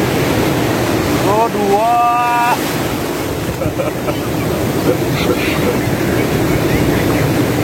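Big ocean waves break in a loud, continuous roar of surf with heavy wind buffeting the microphone, and a voice briefly speaks over it early on.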